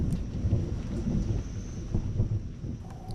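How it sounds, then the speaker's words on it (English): Low, rolling thunder from a passing storm grumbles steadily for about three seconds, a broad deep rumble with faint rain-like hiss above it and no voices. "we heard the rumble of thunder"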